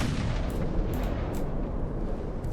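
Warship guns fire in the naval battle game Ultimate Admiral: Dreadnoughts, a continuous heavy low rumble of distant cannon fire with faint overlapping booms.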